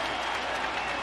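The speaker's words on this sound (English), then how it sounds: "Huge reaction by the crowd." Baseball stadium crowd cheering and applauding after a strikeout, a dense, steady roar of clapping and voices with no breaks across the whole moment.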